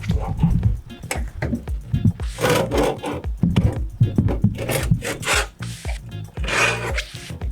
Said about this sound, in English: Brian's just taking the knife and making a little line to show how big it is.